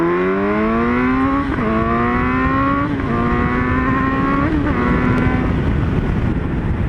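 A sports car accelerates hard and loud while racing a Mercedes SLR, its engine pitch climbing steadily and dropping briefly at each of several upshifts, with no voices heard over it.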